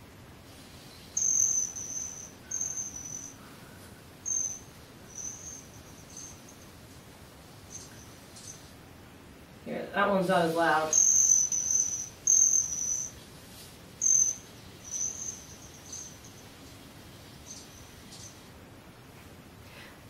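High, thin squeaky chirps in short repeated bursts over quiet background hiss, with one brief spoken remark midway.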